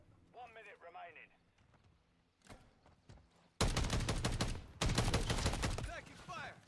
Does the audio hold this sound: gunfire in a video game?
yes